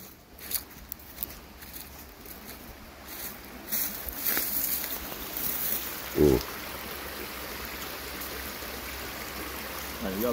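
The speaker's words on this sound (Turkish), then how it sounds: "Bu dere gene yukarıdan geliyor şeyden," A creek flowing down from Uludağ mountain near Bursa gives a steady, soft rushing of water, with a few louder knocks and rustles from people nearby.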